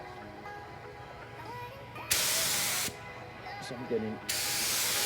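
A spray gun sprays primer onto an Acura Integra in two loud hissing bursts of under a second each, with someone talking quietly between them.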